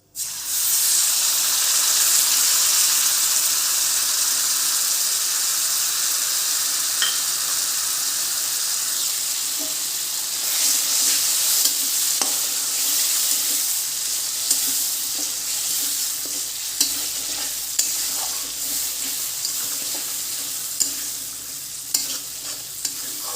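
Raw mango pieces sizzle loudly in a hot pan, a bright steady frying hiss with occasional stirring scrapes and small pops, close and continuous with no talk.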